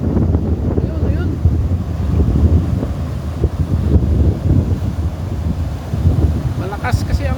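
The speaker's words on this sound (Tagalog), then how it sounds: "Malakas kasi ang hangin" Strong wind buffets a phone microphone beside a river during net fishing, a loud, continuous low rumble of gusts with water splashing, and no clear talk over it.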